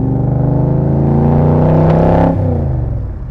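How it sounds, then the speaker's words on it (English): A Crendon Cobra replica sports car engine runs as it warms up, a loud, deep, throaty rumble with steady harmonic drone that rises slightly in pitch, then eases back near the end. "The engine's started to warm up now."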